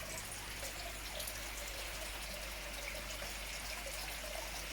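Quiet, steady rush of water flowing and trickling from a bog filter into a koi pond, continuous and soft throughout, ending with a brief knock.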